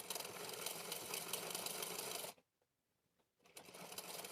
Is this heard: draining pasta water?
no